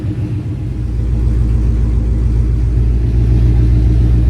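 A car with 2-inch side pipes, long-tube headers, an X-pipe and MBRP mufflers idles close by, a loud, deep, steady rumble with a lumpy pulsing throb.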